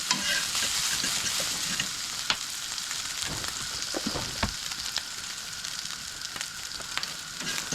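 Bacon frying in a pan gives a steady, bright crackling sizzle with a few sharp pops and stirring clicks, close up and continuous with no one speaking.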